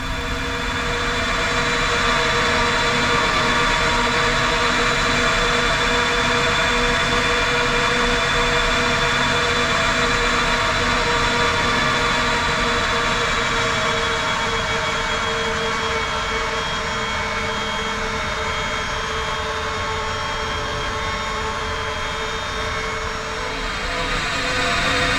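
Steady, loud jet engine drone of a FlightFactor 767F freighter taxiing in X-Plane 11, a continuous whine with tonal bands holding even for the whole stretch, no voices over it.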